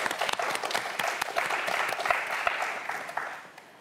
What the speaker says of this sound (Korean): 마지막으로 박수 한번 부탁드립니다